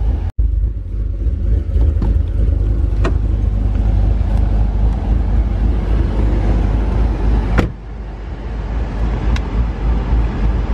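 A lifted Chevrolet pickup with an LBZ diesel and 6L80 transmission drives along, a loud, steady engine and road rumble heard from inside the cab, with a brief dip and a few clicks.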